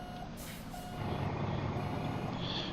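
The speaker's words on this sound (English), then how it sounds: "Now I got to back it up so I can hit that thing to park the trailer" A truck backing up to park a trailer in American Truck Simulator, with a steady reversing beeper over a loud diesel engine drone and a hiss of air brakes, close and continuous with no talk.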